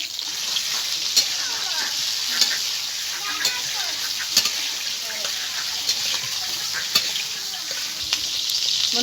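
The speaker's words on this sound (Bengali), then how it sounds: "তেল গরম হয়ে গেছে, এবার পটলগুলোকে ভেজে নেব।" Pointed gourd pieces frying in hot oil, a loud, dense sizzle close by with evenly spaced sharp pops and crackles over the steady hiss.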